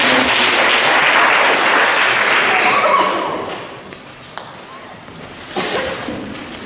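A church congregation applauds loudly and steadily for about three seconds, then the clapping thins to a few scattered claps, with a brief renewed burst near the end.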